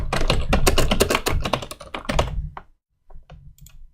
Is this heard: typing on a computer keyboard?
yes